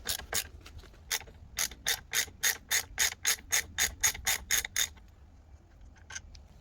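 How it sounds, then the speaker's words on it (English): A ratchet wrench loosens the Loctite-coated torque bolts on a BMW R1200RT motorcycle, giving a close, crisp run of about eighteen rapid clicks in a regular rhythm, then quiet with a couple of faint ticks. "let's go ahead and remove these two bolts"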